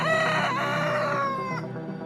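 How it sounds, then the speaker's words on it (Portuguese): A rooster crows once, loud and close, a long drawn-out cock-a-doodle-doo call that falls and fades away at the end, with no talking over it. "Imediatamente o galo cantou."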